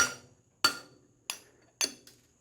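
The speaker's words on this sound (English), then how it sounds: "I'm going to use a small hammer and tap that" A small hammer strikes a cold punch down in a bolt hole during a HeliCoil thread repair, four sharp metallic taps spaced about half a second apart, each ringing briefly, close and clear with no talking.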